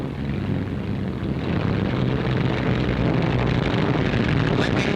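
A WWII aircraft coming in to land, heard as a loud, steady propeller-engine drone that holds throughout with a slight lift in level, mixed with wind rush.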